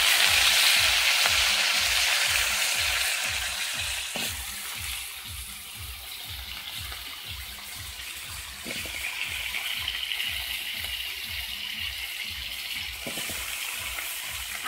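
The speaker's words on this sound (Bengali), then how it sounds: "আলুগুলো একটু ভাজা ভাজা করে নেবো," Potatoes fry in a pan with bay leaf and dried chillies, a steady loud sizzle with a faint rhythmic pulsing beneath it and occasional brief clicks.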